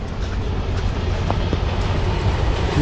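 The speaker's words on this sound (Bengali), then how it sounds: "এই যে ট্রেন যাইতেছে" A train rolls past at a scenic countryside spot in Sreemangal, giving a steady, fairly loud rumble and rattle that holds for the whole stretch with no voices.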